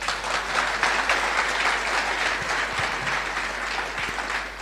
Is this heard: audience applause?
yes